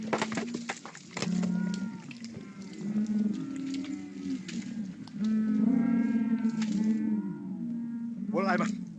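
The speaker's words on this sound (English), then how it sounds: "Now let the cattle go." Cattle moo repeatedly in low, drawn-out calls, several animals overlapping at moderate distance, with a higher bellow near the end.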